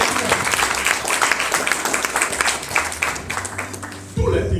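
A church congregation at a teaching seminar breaks into loud, sustained applause and acclaim, dense clapping filling the room before a sudden low rumble of voices near the end.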